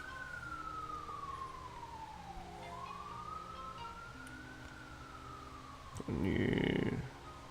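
Emergency vehicle siren outside, police car or ambulance, a long wailing tone gliding down and back up, heard from a distance through a room, then a brief louder rumbling burst near the end.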